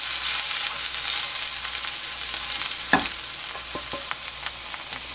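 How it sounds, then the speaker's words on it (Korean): Chopped green onion sizzles and fries in hot oil in a pan for making scallion oil, a steady crackling hiss with a brief stir or clatter midway, close and alone. "대파 기름을 좀 낼게요"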